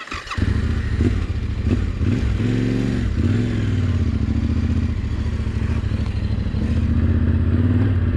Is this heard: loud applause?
no